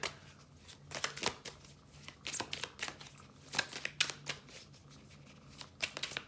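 A deck of cards being shuffled close by, rapid riffling bursts and soft slaps repeating in an uneven rhythm, with no talking.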